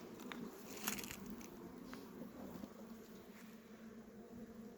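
Honeybees humming inside a hive as the colony is crowded onto fewer frames: a soft, continuous, fairly faint buzz with small crackles and no voices.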